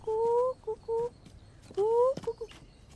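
A young hen clucks in a Vietnamese drama scene, with short, close, tonal calls in two bursts: two quick notes, a pause, then a longer rising cluck and a few clipped ones.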